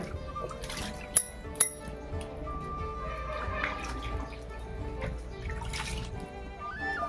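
Sliced potatoes dropped one by one into a bowl of water in a home kitchen while making potato wafers: two small, close splashes in quick succession over a quiet room with faint drips afterward.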